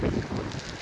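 Wind gusts outdoors at a canyon campsite, heard as a brief, close roar of buffeting across the microphone, with no other clear sounds.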